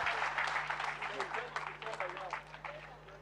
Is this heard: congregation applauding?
yes